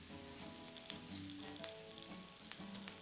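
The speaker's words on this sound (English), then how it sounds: "Oh, we got that sizzling going on." Steady sizzling and crackling of bell peppers frying in a hot pan, close and continuous with small pops, no voices.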